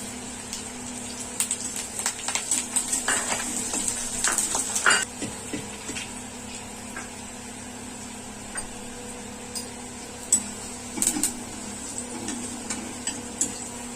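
Curry leaves hit hot oil while puffed rice chivda is being made, giving a steady close hiss of sizzling with scattered crackles and pops that cluster early and then settle into a quieter fry.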